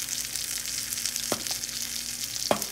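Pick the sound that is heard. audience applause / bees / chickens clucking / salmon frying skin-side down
salmon frying skin-side down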